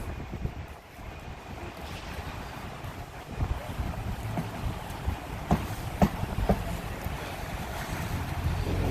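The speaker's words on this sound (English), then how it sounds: "So I apologize about the wind today." Strong wind at Hudson Yards, New York, blasts across the microphone in a continuous roar with heavy low rumble and gusty buffeting that builds toward the end. No voices are heard.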